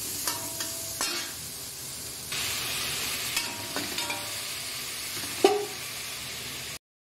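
Garlic, onion and ginger sautéing in a pan, a steady close sizzle and hiss with a few clinks and scrapes of a utensil stirring, no talking, ending abruptly.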